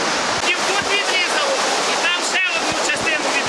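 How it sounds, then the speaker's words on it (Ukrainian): Floodwater roars down a village road turned into a turbulent river, a loud, continuous rushing wash with faint voices partly audible beneath it. "звичайна сільська дорога, котрою ходили до міста, на роботу, до школи, перетворилася у гірську бурхливу річку"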